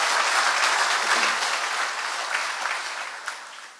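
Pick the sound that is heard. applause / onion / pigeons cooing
applause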